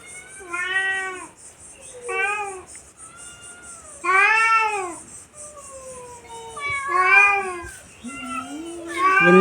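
Several cats meow and yowl near the camera while fighting over food, with repeated drawn-out cries in short bursts and pauses between them.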